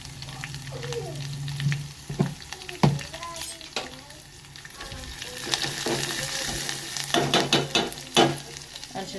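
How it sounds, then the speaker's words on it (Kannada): Turmeric powder sizzles in hot frying oil for garlic upma, a close, crackling fry with stirring scrapes and a few sharp utensil clinks, moderately quiet and without talk. "ಎಣ್ಣೆಗೆ ಅರಿಶಿಣ ಪುಡಿಯನ್ನು ಹಾಕೋತೀನಿ ನೋಡಿರಿ"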